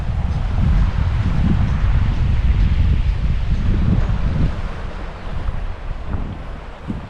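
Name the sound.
strong wind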